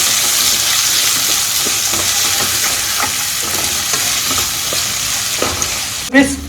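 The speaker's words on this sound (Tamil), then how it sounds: "உப்பு வெங்காயம்லாம் ஆட் பண்ணி நல்லா மிக்ஸ் பண்ணி கொடுத்துடலாம்." Onions with salt sizzle steadily in a hot pan for egg chili masala while a spoon stirs them in soft, repeated scrapes. A louder clatter comes near the end. Nobody talks.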